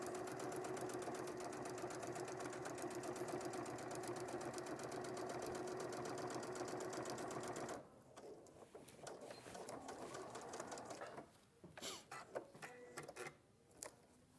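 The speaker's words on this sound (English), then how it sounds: "if you've got the up-down button function on your machine, press it up and press it down and it will move forward one stitch" A sewing machine stitches steadily and loudly for about eight seconds in a fast, even mechanical chatter, then runs in shorter, rougher bursts with pauses as the fabric is repositioned.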